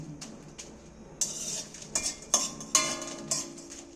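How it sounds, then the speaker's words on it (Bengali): Dry red chillies stirred in a dry pan, the spatula or spoon scraping and knocking against the metal in several sharp clinks and scrapes, close up, with no talk. "শুকনো খোলায় একটু নাড়াচাড়া করে লঙ্কাগুলো আমি ভেজে নেব"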